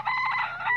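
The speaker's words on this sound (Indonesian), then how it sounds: "Nah, itu adalah suara ayam." A chicken clucks and calls in a short, bright burst, close and fairly loud with a rising squawk near the end, with no talking.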